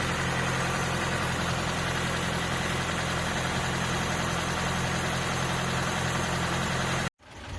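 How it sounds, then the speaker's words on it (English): A Ford Mk3 Cortina Estate engine idles on choke after a carburettor rebuild, a steady, loud, even rumble that holds for about seven seconds before cutting briefly and resuming. "Running the engine up, it's on choke, so I'm just going to let it warm up for a minute."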